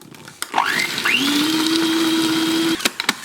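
A blender whirs pancake batter with salt, spinning up in short rising bursts and then holding a steady, loud, high whine before cutting off, with a few knocks at start and finish.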